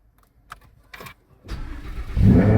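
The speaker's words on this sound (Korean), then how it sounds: "엔진 스타트 한번 보여주겠어요?" An Audi R8 Spyder or BMW i8 supercar engine cranks and fires up close by, a few faint clicks giving way to a rising, loud rumble that swells near the end.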